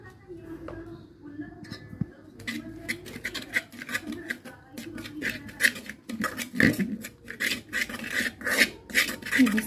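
Boiled soya chunks being stirred by hand with edible food colour in a pot, a rough rasping, rubbing scrape repeating close by in quick strokes, louder in the second half, with brief speech near the start.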